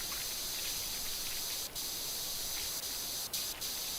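Steady, loud pressure-washer spray from Powerwash Simulator, a continuous hissing jet that runs the whole time with a few brief dips where the nozzle cuts out for a split second.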